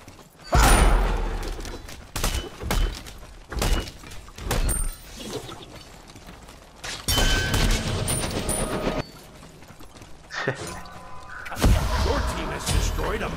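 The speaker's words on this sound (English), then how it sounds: "Your team has destroyed a middle enemy tower." Crashing explosions and gunfire-like blasts as an enemy tower is destroyed in the Smite battle arena game, a dense series of loud impacts and shattering hits through most of the stretch, with a voice briefly heard among them.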